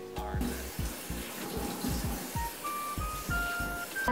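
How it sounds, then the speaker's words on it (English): Water runs from a tap as pork belly and pork skin are washed, a steady splashing stream with repeated knocks and handling sounds close by. "So first I'm gonna be washing our pork belly and our pork skin."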